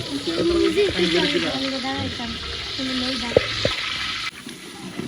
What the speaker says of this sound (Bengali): এদিকে রুস্টের জন্য মশলাটা করে নিছে ভালোভাবে এখন কষা নিতেছে